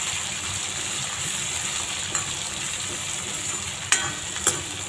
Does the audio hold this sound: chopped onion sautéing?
yes